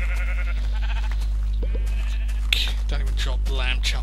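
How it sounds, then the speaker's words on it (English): Several short sheep bleats in Minecraft sound over a steady low hum and busy background game noise, a few calls in quick succession. "Get off my bloody farm, you bloody sheep."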